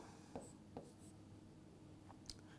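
A teacher writes letters on a board during a reasoning lesson, with a few faint, brief scratchy pen or marker strokes in a quiet room.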